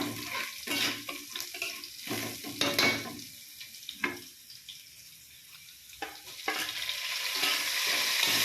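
Masala and curry leaves for a wedding-feast-style pomelo pickle sauté in a pan. A spoon scrapes and stirs in irregular bursts, first over a low sizzle and then over a rising, steadier sizzle.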